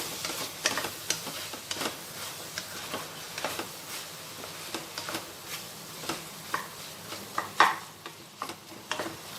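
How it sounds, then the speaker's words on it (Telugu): Bottle gourd sour curry with tomatoes stirred in a pan: a close, steady run of scraping spoon strokes and soft clicks against the pan over a faint low sizzle, with no voices. "ఇప్పుడు ఒకసారి కలుపుకుందాము"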